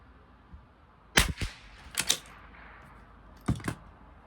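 Long-range rifle shots from a Lapua-chambered rifle, with two sharp broadband cracks near the middle and a later pair a few seconds on, each followed by a brief echo over a quiet outdoor background.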